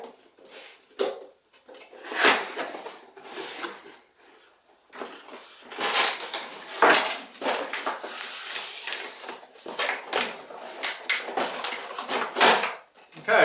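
Cardboard packaging for an XK X250 Alien quadcopter being opened by hand, with irregular rustling, scraping and thumping bursts close by that come and go over several seconds, mixed with some speech.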